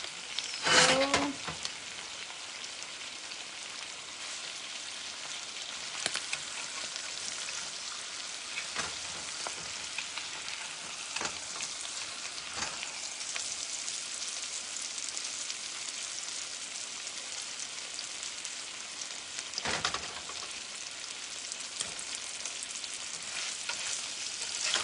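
Hot ham and Swiss cheese sandwich fries in a pan with a steady soft sizzle, broken by a few louder crackles and brief scraping touches, quiet and close with no talking.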